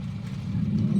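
A 2006 Honda City engine idling steadily, a low, even rumble with no revving across a brief moment.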